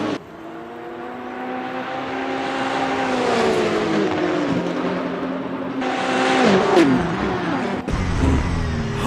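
Lamborghini and BMW GT race cars at racing speed, their engines roaring loud and close with steady high revs, dipping on shifts and swelling again as they accelerate.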